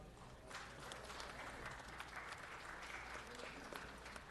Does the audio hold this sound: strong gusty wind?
no